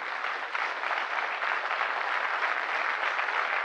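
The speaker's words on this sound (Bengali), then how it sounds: "বড় করে হাততালি দিন" An audience at a business seminar applauds, a dense, even wash of clapping that holds steady and fairly loud throughout.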